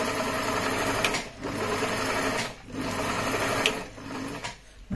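A HandiQuilter Moxie XL quilting machine stitches a row of zigzags on a quilted cushion cover, running as a steady, close hum broken by a few short pauses where it briefly slows or stops.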